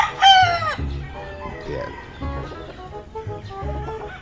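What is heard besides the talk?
game fowl chickens and roosters crowing and clucking on a farm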